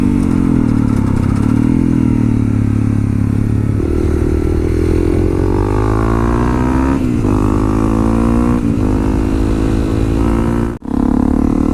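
A Yamaha FZ-07 motorcycle ridden in third gear on a supermoto-style run, its engine droning loud and steady with rising revs, then a brief sharp dip near the end.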